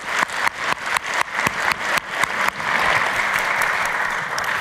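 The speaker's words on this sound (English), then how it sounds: "So if you could please help me in giving another round of applause to the judges." An audience at the MIT $100K Entrepreneurship Competition launch event breaks into applause for the judges, beginning as scattered sharp claps and swelling into a loud, sustained roar of many hands clapping together.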